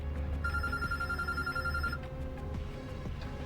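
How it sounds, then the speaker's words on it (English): A telephone rings in the Road 96 video game, a steady electronic bell tone lasting about a second and a half over a layered game soundtrack, then stopping. "Phone's ringing, no sweat."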